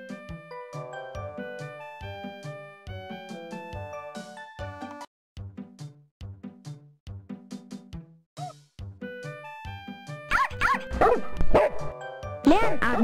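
Toy puppy from a children's pet game, giving repeated short electronic yips and barks in a steady rhythm over a tinkly melody, with a burst of bright jingling chimes near the end.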